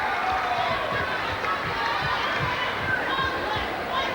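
A big sold-out netball crowd fills the State Sports Centre in Sydney during an Australia v New Zealand under-21 game, a dense, continuous roar of chatter and cheering with thudding footsteps or ball bounces underneath.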